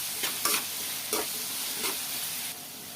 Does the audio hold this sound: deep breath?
no